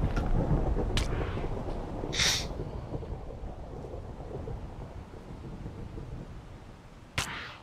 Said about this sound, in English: randomly you will get struck by lightning if you're outside